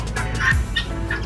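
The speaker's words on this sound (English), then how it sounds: "Need a goose?" A goose at an outdoor market in San Cristóbal de las Casas, Mexico, gives a few short honking, gobbling calls up close, with no talking over it.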